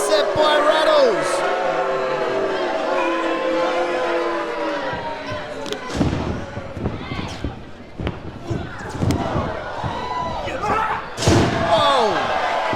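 A wrestler hits the mat hard off a big shoulder tackle at a live wrestling show in a football club, giving a booming slam and thuds amid crowd noise, with a commentator talking throughout.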